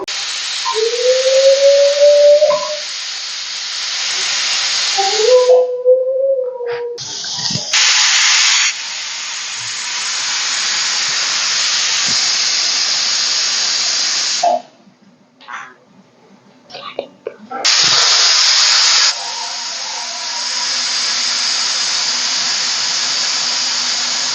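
Pressure cooker cooking chicken gives off loud, sustained steam hisses with a rising whistle tone at the start, broken by short quiet gaps before the hissing returns.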